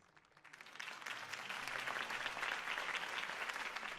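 Crowd applause follows Harvey Dent's campaign speech in the Batman Telltale game, starting softly, swelling within a second into a full, sustained roar of clapping, and holding steady to the end.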